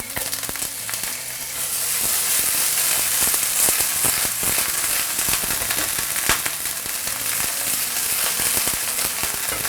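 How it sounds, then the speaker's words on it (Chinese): A flatbread pancake fries in oil in a pan for breakfast, a steady close sizzle with crackling pops and occasional clatter as the pan is shaken. "煎的时候我们适当给它甩一下，这样的话它的受热会比较均匀一点"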